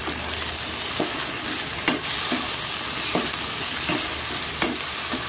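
Onions with salt, turmeric and garam masala fry in a pan for an egg dish, a constant loud sizzle broken by regular scraping stirs about once a second, close and without talk.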